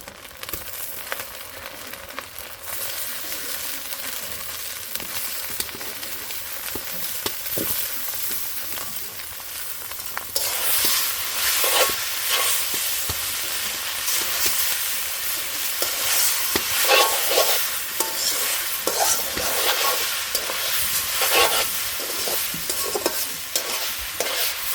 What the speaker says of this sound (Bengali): ডিম পেঁয়াজ ভাজা হয়ে গেছে, এর উপরে এখন লুডুস দিয়ে দেবো।